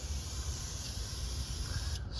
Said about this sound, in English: Now what we'll do now is just spray some brake cleaner around